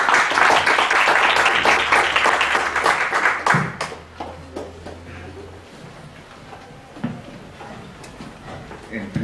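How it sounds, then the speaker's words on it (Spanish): An audience gives a speaker a warm round of applause at a talk on labor reform; dense clapping for about three and a half seconds, then tapering into a few scattered claps and quiet room noise. "Le damos un cordial aplauso al maestro"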